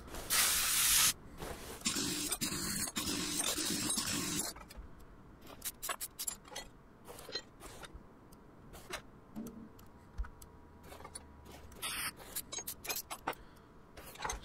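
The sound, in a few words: taking apart car brake assemblies in Car Mechanic Simulator 2021 video game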